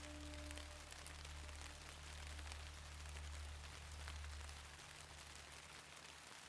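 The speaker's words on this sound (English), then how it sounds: "The rain has thinned a little," Light rain falling steadily, a soft, even hiss with a low rumble beneath that fades toward the end, quiet and unbroken by voices.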